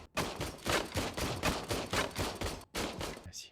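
Gunfire in the video game RoboCop: Rogue City comes as a rapid string of about a dozen loud, sharp shots, briefly pausing before a final burst.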